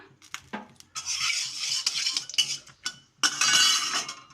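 Dry red chillies and five-spice seeds stirred in oil in a kadai for a Bengali aloo paratha filling, heard as close, repeated metallic scraping and clinking of a utensil against the pan in uneven bursts, with no talking.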